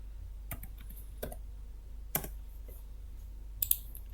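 A computer keyboard shortcut is tapped in an office setting: four sparse, faint key clicks spread out over a quiet background hum, with no talk.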